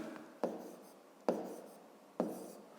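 Handwriting during a fifth-grade math exercise on long division: three sharp pen strokes land at roughly even intervals, each decaying into a soft scratchy tail, fairly close and alone with no talk.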